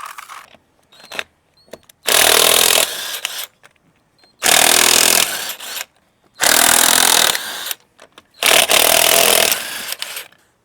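Impact wrench or power tool spinning lug nuts with a 17mm socket to remove a rear tire from a CFMOTO ZForce Z950 UTV, four loud bursts of whirring rattle a couple of seconds each, separated by short quiet gaps and small clinks.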